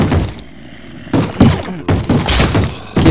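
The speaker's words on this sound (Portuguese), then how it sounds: "esse é o barulho deles quebrando a porta" Zombies in Minecraft battering a wooden door, a series of loud, sharp thuds and cracking knocks coming in irregular bursts after a short quieter pause.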